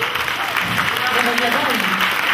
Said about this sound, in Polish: brawa dla Zbyszka